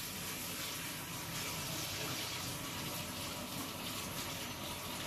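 Water running steadily from a tap as the ceramic saddles of an Air Still are rinsed, a continuous, even gushing rush with no pauses.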